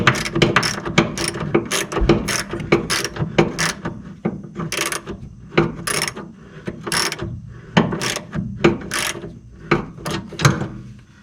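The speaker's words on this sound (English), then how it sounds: "And now I'll finish tightening this." Ratchet wrench clicking in quick bursts while tightening a bolt on a 1966 Ford Mustang, a run of sharp, close mechanical clicks with short pauses between strokes, no talking.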